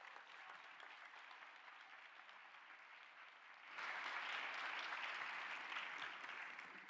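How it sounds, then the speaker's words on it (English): Audience applause for signatory countries at a UNICEF climate crisis event, a steady patter of clapping that swells suddenly louder and fuller midway, then holds, fairly distant and soft overall. "can I ask you all to join me in giving the signatory countries a round of applause?"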